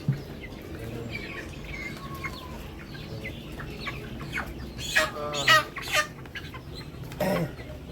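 Broiler chickens on a poultry farm cluck and squawk nearby while being weighed, with soft murmuring in the background and a burst of louder, agitated clucks near the end.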